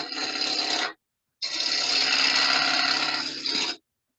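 A turning tool cuts bevel-first into wood spinning on a lathe, making a loud, close, continuous scraping hiss in two passes, a short one and then a longer one, with a brief silent break between them.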